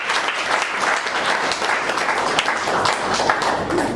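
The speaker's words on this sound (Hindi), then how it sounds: "एक बार जोरदार तालियां" Loud, continuous applause from a large audience at a company leaders' meeting, with dense claps forming a steady roar and faint voices mixed in.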